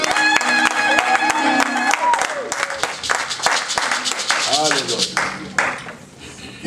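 A church congregation applauds and acclaims the Lord, steady loud clapping mixed with cheering voices and a speaker talking over it, the applause thinning toward the end.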